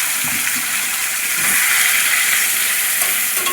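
Boiled, drained taro greens are dropped into a hot pan of oil with green chillies and stirred, giving a steady loud sizzle with a swelling hiss and faint scraping throughout.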